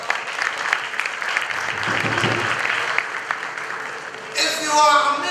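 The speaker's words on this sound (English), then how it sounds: "A round of applause for DPSI." Crowd applause at a school graduation ceremony, a dense wash of clapping from many people that carries on steadily, then fades as a voice begins speaking over the end.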